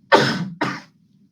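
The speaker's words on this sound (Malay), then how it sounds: "Ada batuk-batuk sikit tu." Two harsh coughs in quick succession from a presenter during an environmental care webinar, close to the microphone and loud, with a quiet room tone afterward.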